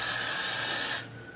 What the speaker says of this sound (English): But you've hairsprayed it to my skin now.